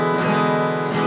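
A simple two-finger guitar chord strummed across all six strings, ringing with sustained harmonic tones and a brighter strum attack near the start and again near the end of a brief second-long moment.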